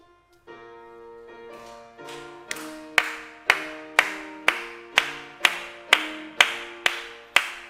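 A church congregation claps along to the hymn 십자가 군병들아 during a Korean Sunday service. A keyboard chord opens, then sharp, even claps settle into a steady beat, about two per second, growing firm and loud.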